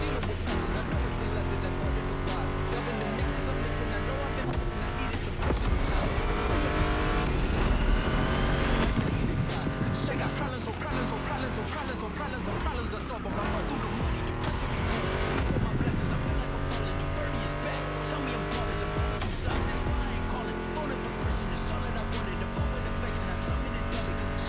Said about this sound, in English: Meshes well with the sound of the engines, you feel me? I couldn't put you through a muscle car ride without some proper riffs